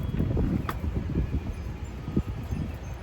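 Gusty wind buffets the microphone with low rumbling thumps and rustling, steady and close throughout.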